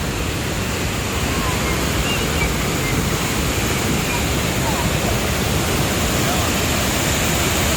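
Small waterfall at a camping site in Norway, a steady, dense rush of falling water that holds loud and unbroken throughout, with no other sounds standing out.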